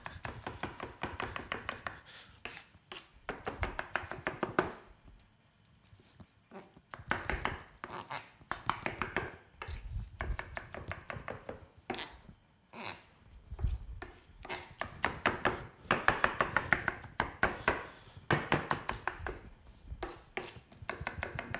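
Rapid, rhythmic chops of a double knife cutting peppers strike a cutting board in quick bursts, with a few brief pauses between runs of chopping.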